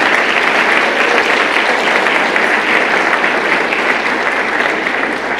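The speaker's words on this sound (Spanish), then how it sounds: "dale un fuerte aplauso al Señor Jesucristo" A congregation applauds loudly for Jesus Christ at a Spanish-language sermon, a dense, steady wash of clapping sustained evenly from start to finish with no voices over it.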